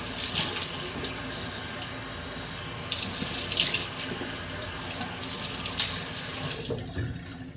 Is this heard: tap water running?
yes